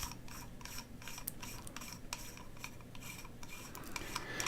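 A brass section of a Geekvape Tsunami mechanical vape mod is unscrewed, giving a continuous close metallic rasping and scraping with small clicks throughout.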